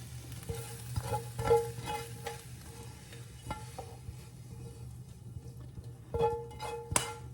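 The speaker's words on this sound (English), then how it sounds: "I have some eggs that I'm scrambling" Eggs being scrambled in a pan at home, with repeated scraping and tapping of a utensil against the pan over a low steady hum, growing busier near the end.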